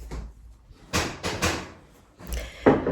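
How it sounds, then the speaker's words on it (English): A household door opening and closing indoors, with a few sharp knocks and thuds spread across a couple of seconds, moderately close. "That's the door."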